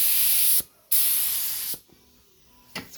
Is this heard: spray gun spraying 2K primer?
yes